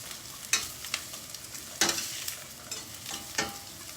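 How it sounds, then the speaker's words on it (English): Poppy seeds sauté with onions in a pan, a soft steady frying hiss broken by several sharp spoon scrapes and taps at irregular intervals, close and fairly quiet. "these 2 teaspoons of poppy seeds. And let these saute together"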